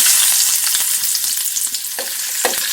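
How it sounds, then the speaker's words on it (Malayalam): Chopped onion goes into hot oil where mustard seeds have already popped, raising a loud, continuous frying sizzle with a few sharper crackles and stirring scrapes, no voices over it. "കടുക് ഇട്ട് പൊട്ടി ഇനി നമുക്ക് കുറച്ച് ഉള്ളി ഇട്ട് കൊടുക്കാം"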